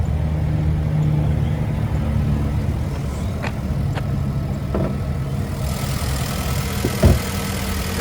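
A 2021 Nissan Rogue Sport SV's 2-liter naturally aspirated four-cylinder engine idles with the hood open, giving a steady, even hum throughout, with a few faint clicks and light taps and a slight brighter hiss toward the end.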